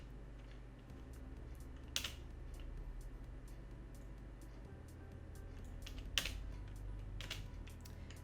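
Keys clack on a computer keyboard in a handful of sparse, sharp taps, close and quiet over a low steady room hum.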